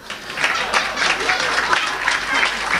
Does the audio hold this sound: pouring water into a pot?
no